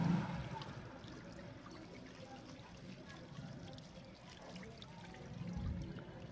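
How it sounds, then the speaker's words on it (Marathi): Fenugreek leaves being rinsed in water, a soft continuous sloshing and trickling with a few louder splashes near the start and end, faint and close. "तर बघू शकता मी एकदा आणखी ही भाजी छान अशी स्वच्छ धुवून घेत आहे।"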